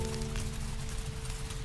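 Steady white-noise rain, a dense, unbroken hiss with a low hum underneath, even and constant throughout.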